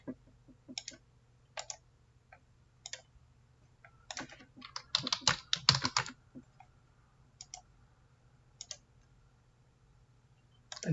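Keys clatter on a computer keyboard as an account name is typed, short bursts of clicks with a denser flurry in the middle, close and soft against a low electrical hum, no talking.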